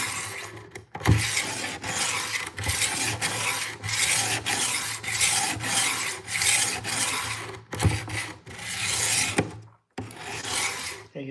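Repeated rasping strokes of a Dexter fillet knife blade drawn across a sharpening stone, close and steady, each stroke separated by a brief gap, with no talk.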